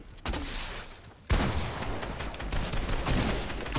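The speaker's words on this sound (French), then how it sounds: "Je lui mets une grosse balle." Gunfire from the Fortnite video game: a dense, sustained burst of rapid shots that starts abruptly, briefly drops, then resumes louder and keeps roaring without a break, with no voices.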